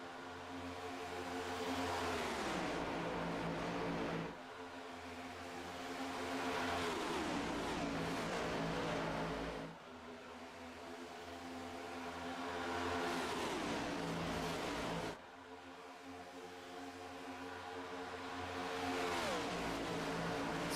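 Next Gen Cup race cars roar around Atlanta in the iRacing simulator, loud engines rising and falling in repeated sweeping passes every few seconds as the field goes by, with no voices over the engine noise.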